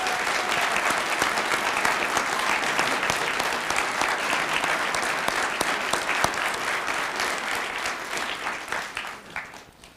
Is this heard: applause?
yes